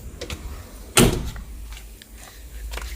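The door of a 1984 Toyota Land Cruiser BJ40 hardtop with a 3000cc 1B diesel engine is shut once with a solid, close thud, followed by faint rustling and handling sounds.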